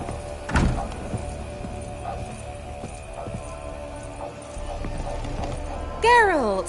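Geralt's horse Roach in The Witcher 3, hooves clip-clopping steadily at close range, ending in a loud, rising whinny.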